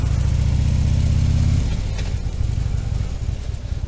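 A motorcycle engine revs at a standstill while the rider holds the brake and works the throttle, a loud close growl that drops suddenly to a lower, rougher idle-like pulse partway through.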